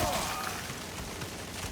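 Video game gun turrets fire in a dense, continuous burst of gunfire, loud and steady across the short stretch, with no clear pauses between shots.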